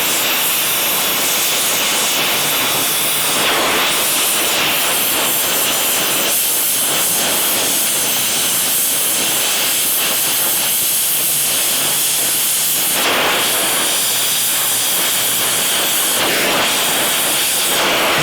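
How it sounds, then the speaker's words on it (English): Arc welding a heart-bar insert into a steel horseshoe, a loud, continuous harsh hiss and crackle that holds steady throughout with brief breaks, close up and without speech. "Go ahead and weld it in the middle here too"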